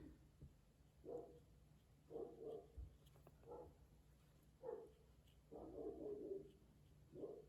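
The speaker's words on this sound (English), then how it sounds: "Don't mind my neighbor's dog." A dog barks repeatedly in the distance from next door, several muffled bursts in short irregular groups at a moderate, steady level, during a quiet watercolour painting session.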